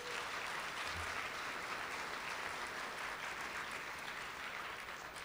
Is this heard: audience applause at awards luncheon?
yes